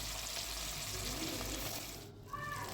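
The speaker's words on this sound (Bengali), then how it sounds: "তেল গরম হয়ে গেলে আমি মাছগুলো ভেজে নেব।" Fish fry in hot mustard oil with a steady, close sizzle and crackle that fades briefly near the end.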